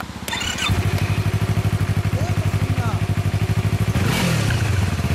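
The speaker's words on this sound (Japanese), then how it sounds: "エンジン音聞かせてもらえる？" A 2015 Yamaha MT-03 motorcycle engine with an aftermarket exhaust starts and settles into a steady, throbbing idle close by, briefly revving near the end, with voices faintly underneath.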